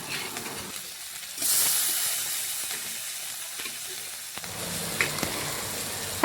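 Steady sizzling hiss of puti fish frying in hot oil in a wok, swelling louder partway through, with a few faint clinks and scrapes.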